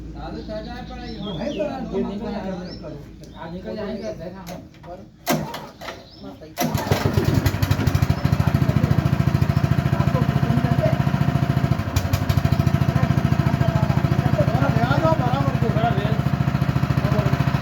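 An engine at a Shirdi juice stand starts and then runs loud and steady with a rapid pulsing drone, close by, after a stretch of voices and birdsong. People talk over it.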